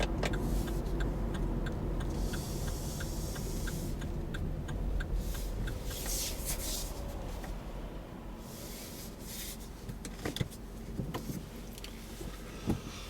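Car interior while driving out of a roundabout and pulling in to park behind a stationary vehicle: steady low road and engine rumble with a regular ticking indicator, fairly quiet.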